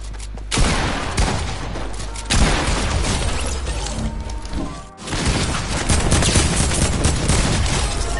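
Rapid, loud gunfire from an overpowered weapon in a video game rattles almost without pause, dense bursts of shots broken by brief gaps.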